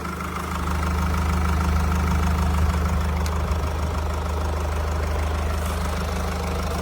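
A Mercedes car engine, just rebuilt, starts and settles into a steady idle with a low, even rumble and a faint knock, running alone without talk.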